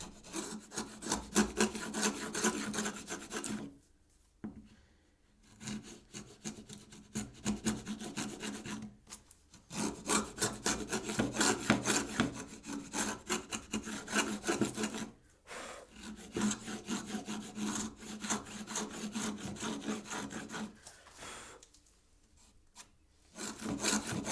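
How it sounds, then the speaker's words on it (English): A chisel and hand router pare waste from wood while building a shooting board, making steady rasping and scraping strokes in long runs with brief pauses between them. "I then pare the majority of the waste out with a chisel and refine to the depth lines with a router."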